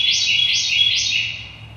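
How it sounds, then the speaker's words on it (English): A small bird chirping inside a machine workshop, three quick high-pitched tweets in a row, clear and close over a faint low background hum. "got a bird in the shop today"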